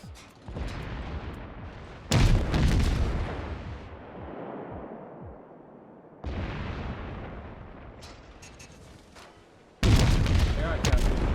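Repeated heavy naval gunfire from a cruiser in the World of Warships video game, loud booming salvos arriving in several bursts with rumbling decay between them.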